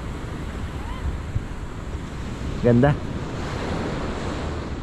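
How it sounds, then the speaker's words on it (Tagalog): Ocean surf at a beach resort in La Union, a steady wash of breaking waves mixed with wind rumble throughout, with a voice briefly speaking a single word midway. "Ang sarap pakinggan ng alon"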